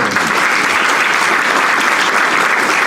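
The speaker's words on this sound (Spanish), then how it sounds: "Regálele un aplauso al Señor." A church congregation applauds during a Sunday worship service, with loud, dense, steady clapping that fills the whole stretch without any talk over it.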